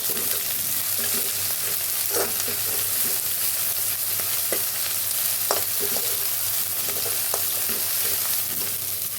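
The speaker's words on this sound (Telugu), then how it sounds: "ఇదిగండి ఉల్లిపాయలు వేగేవి, అల్లం వెల్లుల్లి పేస్ట్, పసుపు వేస్తాను." Onions fry in a pan with ginger-garlic paste and turmeric, giving a continuous close sizzle broken by intermittent scraping and tapping from a stirring spoon.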